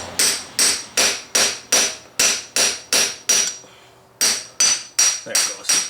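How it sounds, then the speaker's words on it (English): A hammer drives an axle into a Polaris RZR 1000, with about fourteen sharp, ringing metal strikes in a steady rhythm, broken by one brief pause midway, all close and loud with no talking. "with a couple of whacks, it should pop in"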